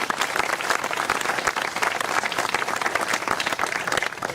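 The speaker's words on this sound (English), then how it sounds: "Let's honor Mr. Pete Raymer today with our applause and our respect." An audience gives a sustained round of applause honoring a World War II veteran at a ceremony, dense even clapping throughout at steady volume.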